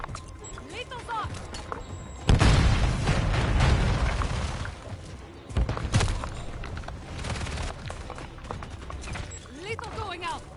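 Grenade blasts and rapid gunfire in a Modern Warfare II multiplayer match, with two heavy, loud booms that roll on for seconds amid crackling shots, while voices call out over the combat.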